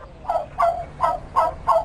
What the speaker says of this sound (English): As Teck passed the sheds, he saw some hens pecking and scratching.